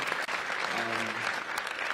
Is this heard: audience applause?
yes